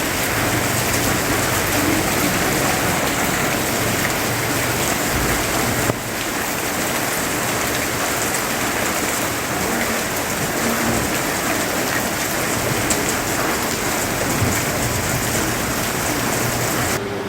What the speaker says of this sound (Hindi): तो देखिए ऐसी बारिश से